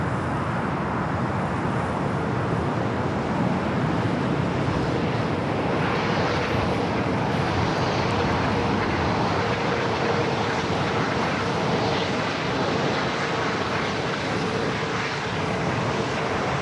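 Aircraft engine noise at LAX airport, a steady broad roar that runs unbroken and at even loudness throughout, with no speech.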